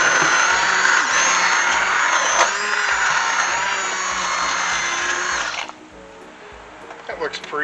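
An immersion blender whirs loudly and steadily with a high motor whine, then cuts off, leaving quieter clatter; a voice talks over it.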